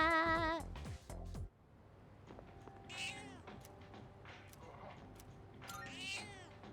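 A cat meows in Persona 3 Reload, with a sustained, harmonic cry at the start, followed by softer, shorter game sounds and a couple of brighter chirps over a steady low background.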